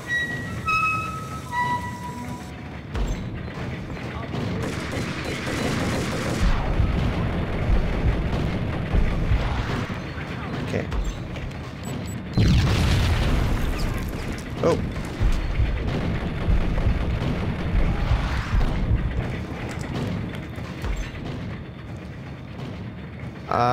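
A grenade blast in the shooter game Max Payne, a heavy boom rising out of ongoing gunfire and rumbling game noise, with a voice talking over parts of it.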